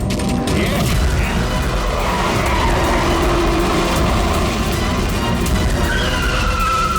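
A car skidding during a chase in the CID television series: a loud continuous mechanical roar with scraping, screeching texture, up close and steady throughout.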